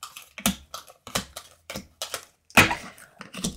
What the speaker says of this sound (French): Attendez, je pose les cartes.